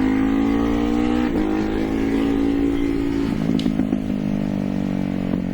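A Ducati Hyper Motard motorcycle engine drones close by, easing off with a cluster of sharp exhaust pops and bangs partway through and another near the end.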